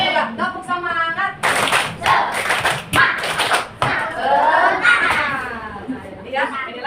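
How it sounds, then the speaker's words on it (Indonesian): A class of children claps in quick rhythmic spirit-clapping patterns, bursts of patterned clapping alternating with the children's voices chanting along. "Iya, coba tepuk semangat."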